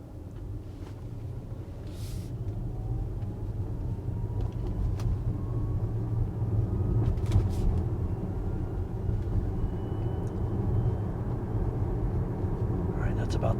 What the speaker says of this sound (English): We're doing about 70 decibels at 30 miles an hour in the Tesla.